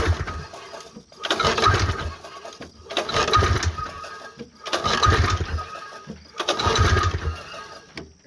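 A Bombardier Everest 503 two-stroke engine is pull-started repeatedly during a compression test, giving four loud, evenly spaced bursts of cranking, each lasting about a second, with short quiet gaps between them.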